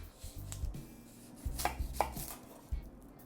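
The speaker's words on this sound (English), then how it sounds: "Take our red onion here, just take the top off." A knife cuts through a red onion on a cutting board in about five or six firm, irregular chops with short crisp crunches, close and distinct with no one speaking.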